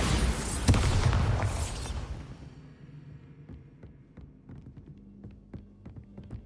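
A Bombarda blasting spell explodes inside a haunted house in Hogwarts Legacy, a loud, close, broadband blast lasting about two seconds before fading into a low hum with scattered faint taps and knocks.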